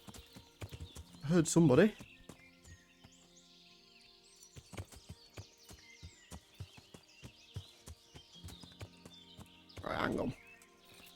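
Horse hooves clip-clop steadily in a muddy rhythm in the medieval game Kingdom Come: Deliverance, close and clear, with a horse whinnying twice and someone speaking briefly over it.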